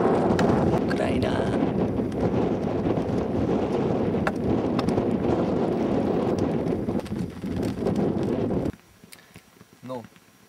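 Strong wind roars and buffets the microphone continuously on a high mountain trek in the Annapurna region, then drops off abruptly near the end, leaving quieter surroundings and a brief voice.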